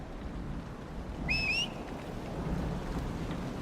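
Steady rain hisses in a thunderstorm in Dragon Age: Inquisition, a continuous wash of downpour with a brief bird-like chirp rising over it midway.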